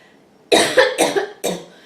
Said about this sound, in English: I'm just going to need to cough here for a second.